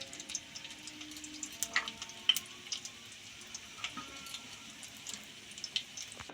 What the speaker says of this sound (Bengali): ওই তেলের মধ্যে দিলাম চারটে শুকনো লঙ্কা আর এক চামচ কালো জিরে